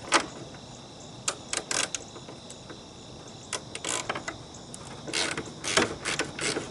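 Close, quick ratcheting bursts from a wrench working 13 mm bolts loose on a Chevrolet tailgate, several short clicking runs separated by pauses, with no voices.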